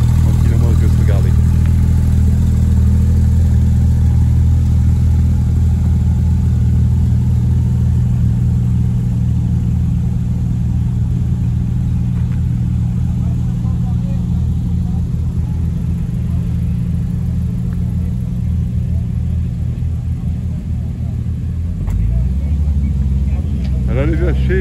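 A Porsche GT3 RS engine runs steadily at a rally event, a loud, close, constant low rumble throughout with a brief shift in pitch near the end, and someone talking over it.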